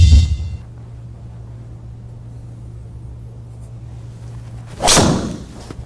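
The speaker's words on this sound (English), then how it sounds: "So I'm going ahead and hit one more tee shot." A golf club strikes a ball off the tee in a single loud, sharp impact near the end, following a low steady hum and an earlier thump, with no talk.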